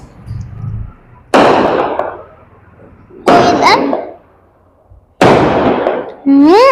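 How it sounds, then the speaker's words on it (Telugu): Firecrackers burst outside a house on New Year's night, with four sharp, loud blasts at irregular intervals, each crackling away into quiet, and a whistling rocket rising near the end. "బయట అయితే బాంబులు వెలుస్తుంది గైస్"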